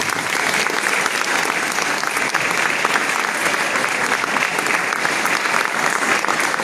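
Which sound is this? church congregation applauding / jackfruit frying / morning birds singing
church congregation applauding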